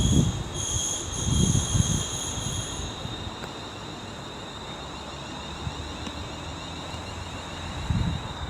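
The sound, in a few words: Class 350 train 350-257 arriving at Rugeley Trent Valley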